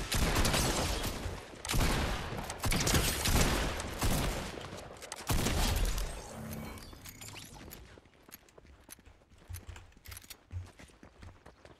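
Rapid, loud bursts of tactical shotgun fire and other gunfire crowd a battle royale style game, the dense blasts easing into scattered shots and footstep-like thumps near the end.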